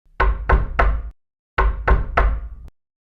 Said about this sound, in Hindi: जोयान ने हवेली का बड़ा दरवाजा खटखटाया